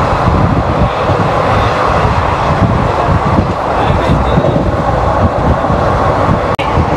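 The Shaktipunj Express from Howrah, running in daytime: a loud, constant rumble and rattle from inside or beside the moving train, with one sharp click near the end.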